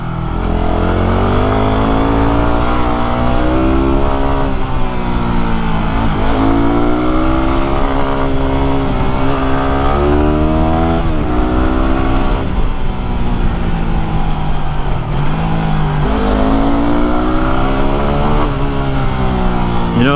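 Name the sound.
Yamaha WR250R motorcycle riding on mountain road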